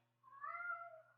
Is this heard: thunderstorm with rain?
no